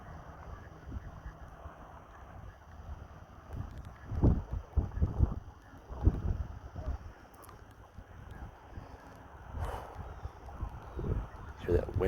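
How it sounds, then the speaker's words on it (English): Wind gusts outdoors on a cold, snowy morning, heard as low, uneven rumbling buffets against the microphone, with a voice speaking now and then. "Hear that wind out here."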